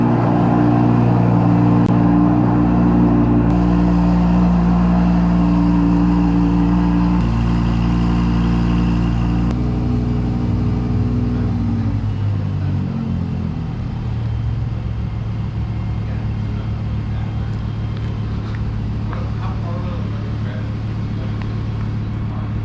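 An Audi R8 GT, one of 333 built, rumbles loudly and close, its steady engine tone rising and shifting as it revs and pulls away, with a broad road noise continuing after.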